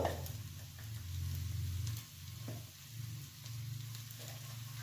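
Kashmiri chili powder and cumin powder sizzle softly in oil in a pan over a low flame, a steady, gentle frying hiss with a few small crackles, close and quiet, with no talk.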